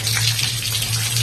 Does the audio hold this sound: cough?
no